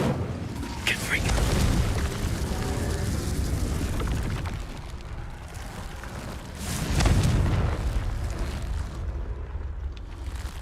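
Booming explosive blasts from the Confringo spell in Hogwarts Legacy burst loudly twice, near 1.5 and 7 seconds, over a dense rumbling game soundscape with a player's voice shouting over it.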